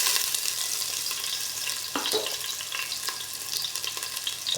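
Ginger sautéing in a pan for a shrimp dish, a loud, steady frying sizzle close up with a few utensil knocks and stirring scrapes, no talking.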